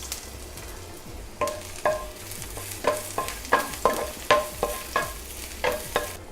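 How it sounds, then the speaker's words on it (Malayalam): Chopped ginger and garlic sauté in a little oil, a low sizzle running underneath as a spoon knocks and scrapes the pan in about a dozen sharp, rhythmic strokes, close by with no talk. "ലേശം എണ്ണ ഒഴിച്ചിട്ട് നമുക്ക് നമ്മുടെ ഇഞ്ചിയും വെളുത്തുള്ളിയും അതിനകത്ത് വഴട്ടണം"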